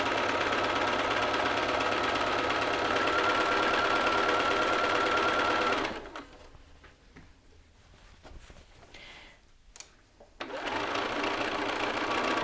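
A sewing machine stitches a jacket lapel to the neckline with a steady, close whir that stops partway for a few quiet seconds of handling fabric, then resumes running to the end.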